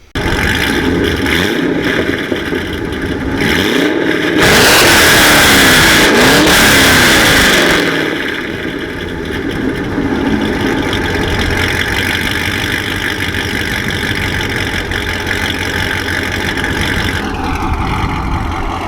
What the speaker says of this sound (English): I'll get you guys a quick little rev